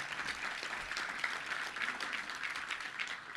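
Audience applause at a Little Rock Touchdown Club luncheon, steady dense clapping throughout, moderately distant and filling the room without talk over it.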